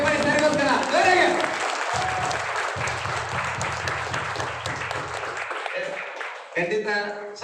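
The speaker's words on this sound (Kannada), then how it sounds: "ಜೋರಾಗಿ ಚಪ್ಪಾಳೆ ಸರ್ಗೋಸ್ಕರ" An audience at a network marketing training gives a speaker loud, sustained applause, with voices mixed in; the clapping fades out and talk follows.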